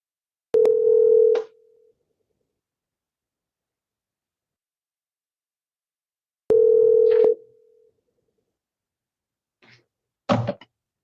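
Telephone dial tone on a call that goes unanswered: two steady one-second tones about six seconds apart, clean and alone, followed by a couple of faint clicks.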